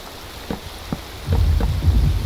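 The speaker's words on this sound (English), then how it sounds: "Lightning just touched down." A Minecraft thunderstorm brings a few sharp crackles of lightning, then a loud rumble of thunder rolling under steady rain, with no talking.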